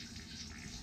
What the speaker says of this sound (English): The way these toilets work, you push the pedal halfway down and it puts water in the bowl.